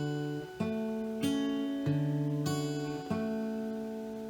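Fingerstyle guitar, thumb and middle finger pinching strings 1 and 4 in a steady pattern, each sharp attack ringing into the next, clear and close with no talking.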